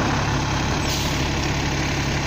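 A 2005 New Flyer D40LF city transit bus, Edmonton ETS unit 4470, idles with a loud, steady low engine rumble and broad roar close by, unchanging for a couple of seconds with no voices.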